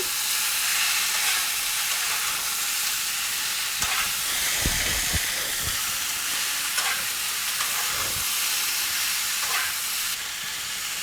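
Ginger and cumin paste frying in a pan, a steady hissing sizzle throughout, punctuated by a few scraping stirs of a utensil against the pan.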